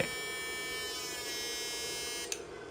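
A 4-amp electric fishing device, a backpack-carried boat unit, gives off a steady, pulsing electrical buzz close by. A brief click near the end cuts it off, leaving it quieter.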